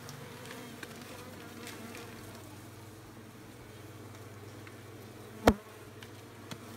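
Honeybees buzz around a big hive during beekeeping work, a faint continuous hum with one sharp click near the end and no talking.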